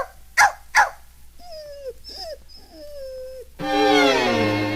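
A dog named Lady sits alone outside by her doghouse and cries: two short barks, then a series of drawn-out, falling whimpers and whines, close and fairly loud, ending as music swells.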